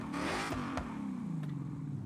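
A car engine with a Corsa or Magnaflow style aftermarket exhaust in Forza Horizon 6 holds a deep, steady burble with a slight rise in revs near the start, loud and close, no voices.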